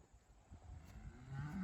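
Cattle being herded on open ranch land, with low bellowing moos rising over a steady outdoor rumble, the calls growing louder and more sustained toward the end.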